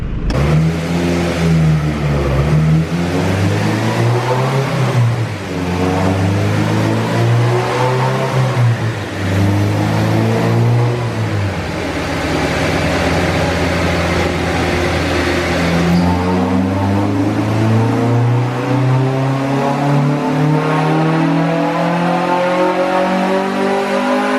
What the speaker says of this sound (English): let's do a dyno run and see how the power looks